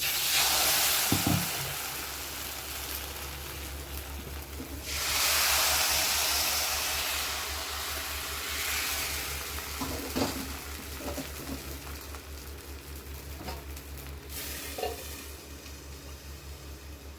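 Appam batter cooks in an iron kadai with a continuous soft hiss and bubbling sizzle over a low hum, swelling in places and broken by a few light clinks and taps of utensils.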